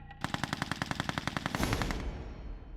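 A Maxim machine gun fires a rapid, steady burst of about twenty loud, evenly spaced shots, close by and alone, trailing off into a reverberant tail.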